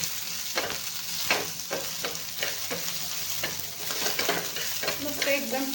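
Onion fries in a little oil in a pan while a spoon stirs it, giving a steady close sizzle broken by a run of sharp scraping strokes at an uneven rhythm.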